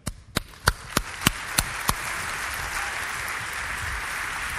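A handful of sharp, separate claps ring out first, then a conference audience breaks into sustained applause for Twitter co-founder Biz Stone at Cannes Lions, the crowd's clapping settling into a steady, moderately loud roar.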